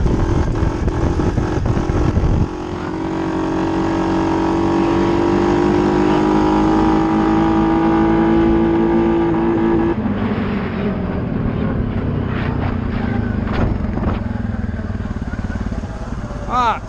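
A Suzuki KingQuad 750 ATV engine, fitted with modifications, is given gas and climbs into a sustained drone that then drops back to idle, close by, with someone talking over it.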